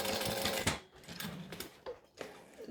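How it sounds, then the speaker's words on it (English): A sewing machine stitching a pocket for a Minifacto design, running in short bursts that stop and restart as it back stitches and then top stitches, fairly close and moderately loud. "Stitch, back stitch, lock it in, and top stitch along like that."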